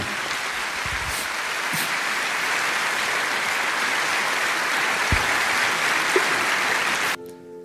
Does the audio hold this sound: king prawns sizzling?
no